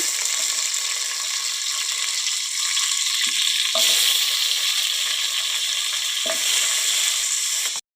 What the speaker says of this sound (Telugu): ఇప్పుడైతే తెల్లగడ్డలు వేసుకుంటున్నా. అలాగే ఎర్రగడ్డలు అయితే వేసుకున్నాము.